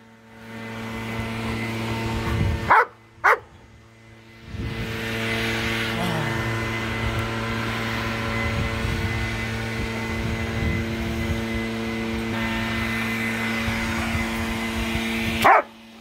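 Two large dogs bark in short loud bursts outdoors, a few sharp barks early and near the end over a steady hum of a passing engine or aircraft, with occasional voices.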